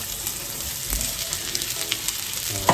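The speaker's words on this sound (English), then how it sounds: "Let's fry this onion for the burger." Sliced onion frying for a burger on a tawa gives off a continuous close sizzle, with faint stirring and scraping and a clatter of the utensil at the end.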